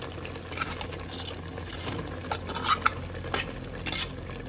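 Tadpoles and crab go into a pot of boiling bamboo shoot curry, with a faint bubbling simmer under scattered utensil clinks, scrapes and stirring knocks.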